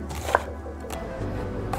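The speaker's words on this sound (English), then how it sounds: "I'm going to chop my onion and mince my garlic" A few knife strokes chop an onion on a cutting board, sparse and fairly soft, against a low background hum.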